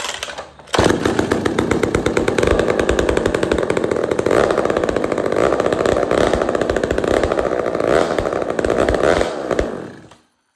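McCulloch 440 chainsaw engine, under repair, fires up after a pull and runs loud and close with a raspy two-stroke buzz for about nine seconds before cutting off abruptly.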